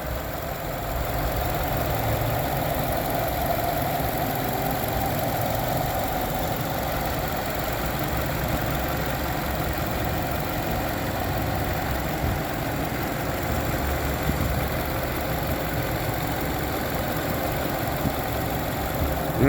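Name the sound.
car engine idling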